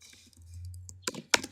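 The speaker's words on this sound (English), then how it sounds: "after that type in your password." A few quick keystrokes on a computer keyboard while entering a password, soft clicks that end in two sharper, louder taps, with nothing else in the room.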